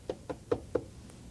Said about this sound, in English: Comes the knock on the door.